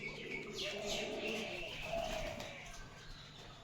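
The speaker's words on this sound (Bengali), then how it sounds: "ওই দেখো পাখিও আসছে শালিক পাখি" Common myna birds call and chirp nearby over a busy outdoor background, with scattered tweets and cooing-like notes running through.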